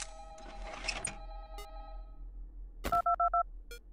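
A telephone in the Five Nights at Candy's 2 video game sounds a burst of electronic ringing tones, then after a pause four loud, evenly spaced beeps, with faint clicks between, no voices.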